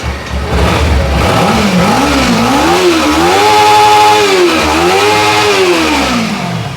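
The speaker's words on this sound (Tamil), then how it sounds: "வண்டி ஸ்டார்ட் பண்ணி பார்த்துடலாம்." A used 2018 motorcycle in near-new condition with about 12,000 km starts and revs, its engine note rising and falling in two sustained swells, loud and close with no talk.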